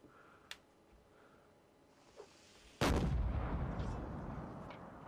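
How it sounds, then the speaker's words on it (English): A single heavy cannon shot booms in a Mount & Blade North & South mod line battle, a sudden loud blast with a long rumbling tail, preceded by faint distant pops. "Listen to that lovely sound. Cannon."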